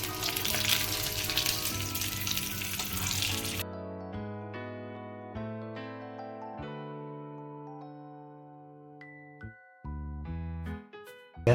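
Hot tempering with curry leaves, cut off from the gas, sizzles loudly and densely as it is poured over mawa, then gives way to sustained tonal background music.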